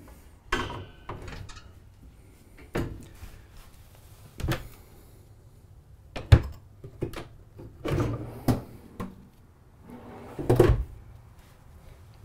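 Cupboard doors and drawers in a 2022 Winnebago Minnie 2301BHS travel trailer are opened and shut in a series of sharp wooden knocks and thumps, spaced irregularly and close by, with no talking.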